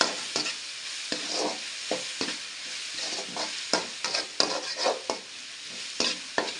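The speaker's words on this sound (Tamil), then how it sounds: "தேவையான மஞ்சள் பொடி போட்டாச்சு. இது நல்லா கிண்டணும்." Mutton dusted with turmeric powder being stirred in a pan, a steady series of scraping strokes about once or twice a second over a soft background sizzle, close and fairly loud, with no talking.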